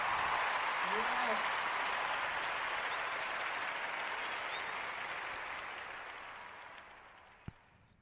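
An audience gives sustained applause that fades gradually toward the end, heard during a comedy show's transition to its game segment.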